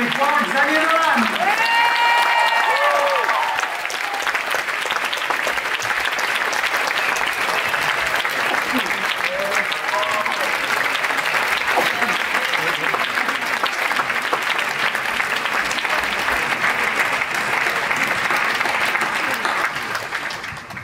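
Sustained applause from a large crowd at the Cannes 2024 Un Certain Regard closing ceremony fills the space, steady and dense throughout, with a voice speaking over it near the start and middle.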